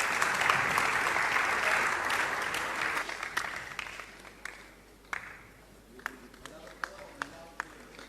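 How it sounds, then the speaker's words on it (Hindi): Applause from an audience at a Jain religious discourse gathering, loud sustained clapping for several seconds that thins out into scattered individual claps near the end. "तालियां बजा के पुनः सम्मान करें"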